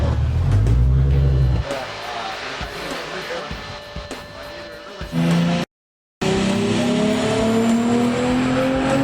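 A turbocharged Datsun 510 engine with a severe misfire runs loud and rough, at first close, then lower and uneven, then surging again after a brief dropout, with people talking over it.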